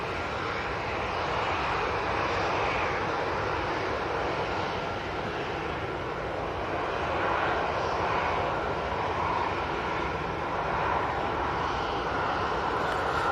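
Airplane engine roar at Manchester Airport, a loud, sustained jet drone holding steady throughout with a slight swell midway.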